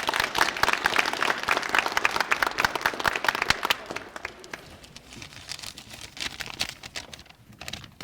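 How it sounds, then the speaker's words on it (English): An audience applauds an award recipient at an education award event: dense, loud clapping that fades to scattered claps partway through and then trails off. "Give her a huge round of applause."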